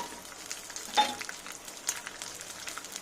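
Small shallot onions dropped into a pan of browned lentils for a drumstick leaf chutney, giving a soft, faint sizzle with a few quiet stirring scrapes.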